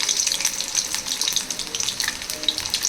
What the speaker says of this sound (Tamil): பூண்டு பொரியட்டும்